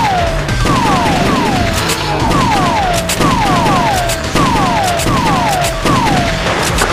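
Gunfire from the House of the Dead 2 arcade game rings out in loud, rapid repeated shots, with whooshing falling tones recurring in a steady rhythm between the blasts.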